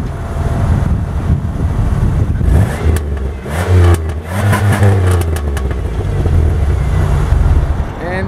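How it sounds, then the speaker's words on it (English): A Pontiac Grand Prix GTP engine revs up and down repeatedly, throaty exhaust bursts rising and falling with some wind buffeting on the microphone. "just to give you guys an exhaust clip of the car with revving it"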